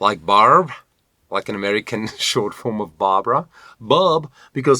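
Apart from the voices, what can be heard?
No everyday noises stand out.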